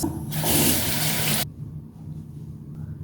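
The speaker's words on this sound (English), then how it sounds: "So I'm just going to rinse that." Running tap water splashes as a face is rinsed during a morning skincare routine, a loud steady rush for about a second and a half that cuts off abruptly, leaving a quiet room.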